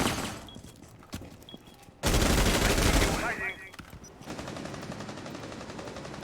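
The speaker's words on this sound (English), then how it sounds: "Shots taken and a lot landed onto Finker here." Gunfire in a Counter-Strike-style esports match, a few scattered shots and then a dense close burst of rapid automatic fire, followed by a quieter continuous crackle of shooting.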